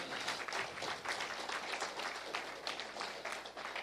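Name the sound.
congregation applause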